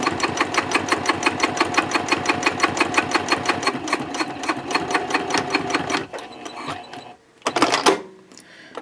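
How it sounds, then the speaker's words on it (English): Sewing machine stitching Cordura fabric for a trifold wallet card slot, a rapid steady mechanical clatter running loud and close for about six seconds, then stopping with a couple of short bursts and clicks. "I'm going to stitch 1/8 of an inch away from the bottom edge of that card slot, and I will back stitch at both ends."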